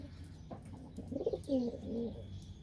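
Pigeons cooing inside a coop, a few soft, close rolling coos at a quiet level with faint chirps and background rustle, no voices.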